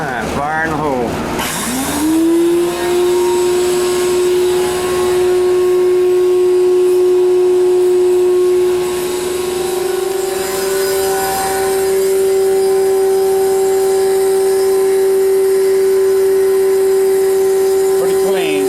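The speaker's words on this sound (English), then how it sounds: "Drag the vacuum back over here" A vacuum cleaner runs continuously after a brief start-up whine that rises to a steady, loud motor drone with a high-pitched tonal hum, close by and unbroken for the whole stretch.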